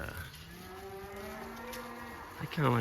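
Cattle low and moo during a frosty December cattle drive of a cow/calf herd, several drawn-out calls overlapping in the middle distance, with a louder, nearer bellow at the end.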